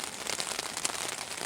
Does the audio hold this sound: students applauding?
no